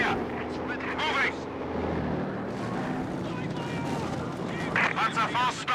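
A Panzer IV tank fires in Company of Heroes 2 amid a battle: deep booming shots and rumbling explosions over engine and wind noise, with voices calling out orders between the blasts.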